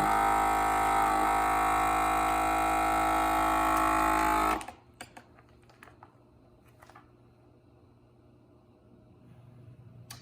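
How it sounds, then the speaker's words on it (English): A vacuum sealer runs loudly on bags of habanero, jalapeno and plain burgers for several seconds, then cuts off abruptly, leaving quiet room noise with a few faint clicks. "shut the vacuum off before it goes to the full seal"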